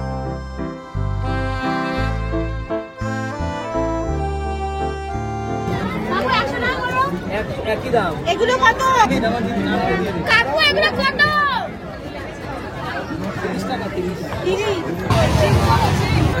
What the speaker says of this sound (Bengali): একটা মেলা বসেছে লাস্ট দিন, কি ভিড় কি ভিড়